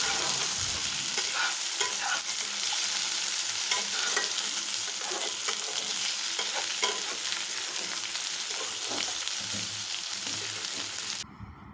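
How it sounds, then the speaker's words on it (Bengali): Tomato pieces frying in a pan for a fig curry hiss steadily under frequent close scraping stir strokes, then stop abruptly at the end. "এবারে টমেটো টুকরোগুলো দিয়ে দিলাম, দিয়ে ভালো করে নাড়াচাড়া করে নিচ্ছি।"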